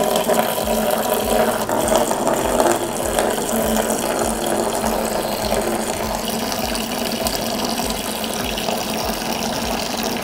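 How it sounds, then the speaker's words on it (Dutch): Aquarium gravel vacuum siphoning water from the bottom of a Red Sea Max Nano Peninsula saltwater reef tank makes a steady, close, continuous watery gurgle with faint ratchet-like clicking throughout, with no talking. "We gebruiken een stofzuiger om de bodem een beetje af te zuigen."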